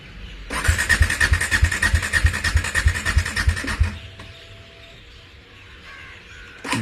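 A Bajaj Dominar 400 motorcycle struggling to start, its engine cranking in a loud, rapid pulsing burst for a few seconds before cutting out, followed by quieter background noise and a brief click at the end.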